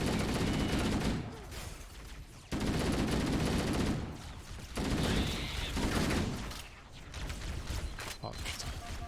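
Bursts of video game gunfire from Halo: Combat Evolved, loud and sustained, with heavy rattling volleys broken by short lulls, as if weapons are firing at the player.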